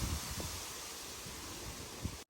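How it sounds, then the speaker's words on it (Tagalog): Wind gusts outdoors in a home garden with fruiting plants and strawberries, a steady broadband rush with soft leaf rustling throughout, fairly quiet, ending abruptly. "Ay, mahangin. Mahangin sa labas, Rox."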